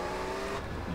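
A short, steady engine hum of a car idling or starting in GTA San Andreas, close and continuous with no talk.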